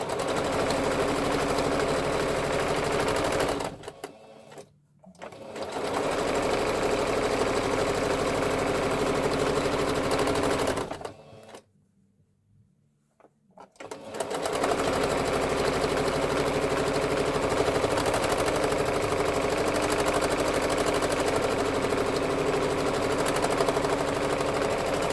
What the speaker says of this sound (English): Then I'm going to fold it in half and sew down the seam allowance.